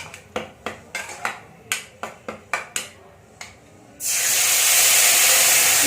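A masala paste for fish curry, thinned with a little water, is fried in oil. A run of separate, close spatters and pops is followed by a sudden loud, steady sizzle as the paste hits the hot pan.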